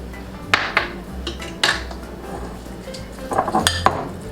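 Onions being stirred in a bowl, with a few sharp utensil clinks and scrapes against the bowl at irregular moments over a low steady background hum.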